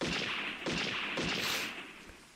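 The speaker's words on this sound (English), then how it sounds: "Sounds like exploding firecrackers echoed from all sides." Rapid bursts of gunfire crackle like exploding firecrackers, echoing from all sides in the Higurashi video game; several sharp broadband bangs arrive in quick succession, loud and alone.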